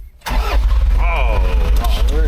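A car engine cranks and catches after a brief quiet moment, then settles into a loud, close running rumble with a rising whine, with voices talking over it.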